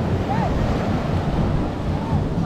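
Sea waves wash continuously around a small outrigger bangka under way near Manila Bay, mixed with dense wind rumble buffeting the microphone, loud and close throughout.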